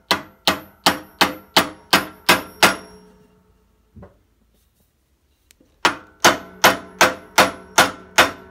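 A hammer raps a spur center into a wood blank for woodturning: a quick run of seven sharp, ringing strikes, a pause with a faint knock, then another run of regular hits, close and loud.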